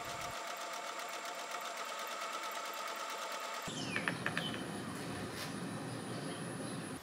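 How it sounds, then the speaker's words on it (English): A sewing machine running a stretchy zigzag stitch to attach elastic edging on a fabric pouch, a steady fast mechanical whir with a shift in tone midway and a few light clicks, heard alone. "used a stretchy zigzag stitch all the way around to allow the elastic"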